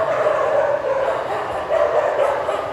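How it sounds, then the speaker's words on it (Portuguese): A dog barks and yips repeatedly in a steady run, fairly close and loud, with no speech over it. "Esse cachorro vai atrapalhar minha pregação."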